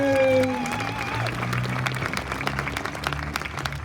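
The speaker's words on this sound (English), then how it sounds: "So let's give her and Annika a big round of applause for their help." Applause from a municipal band concert audience for two band librarians. It starts under a brief voice and continues as scattered, moderate clapping.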